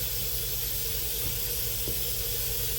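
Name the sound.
pressure cooker quick release hissing steam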